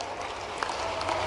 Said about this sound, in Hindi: दोनों हाथ ऊपर के जोरदार ताली